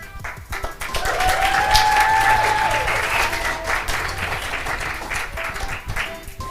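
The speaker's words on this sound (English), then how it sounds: "Give the Evolution team a round of applause." Audience applause for an exhibition team at a 2021 exhibition event, a dense steady wash of clapping that swells and holds for several seconds, with a faint tonal whistle-like sound riding over it.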